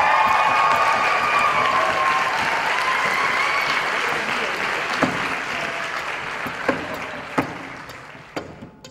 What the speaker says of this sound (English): Please, an outrageous round of applause.